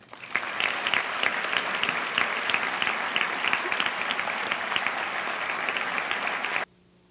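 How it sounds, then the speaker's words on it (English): Sustained applause from an audience at a high school senior academic recognition ceremony for scholar athletes, dense and even for over six seconds before cutting off abruptly. "Let's give a round of applause"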